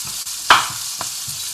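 Onions and garlic frying in oil in a pot, a steady sizzle throughout with a loud stirring scrape near the middle and a softer one after, no voices.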